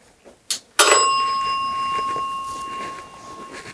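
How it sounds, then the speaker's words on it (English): A bell dings once in a hallway, a bright sharp strike with a clear ringing tone that decays slowly over a few seconds, preceded by a couple of faint knocks. "There's also a bell that I'm going to leave in this hallway right here that dings just like this."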